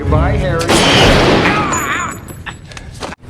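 A gunshot from the 1994 film Speed rings out amid dramatic movie sound, with a sharp burst and booming, clattering noise, while voices talk throughout.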